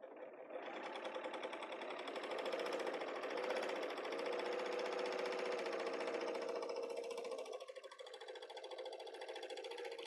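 A serger runs steadily, its fast, buzzing stitch cutting and sealing fabric edges at close range, with a slight change in tone near the end and no talking.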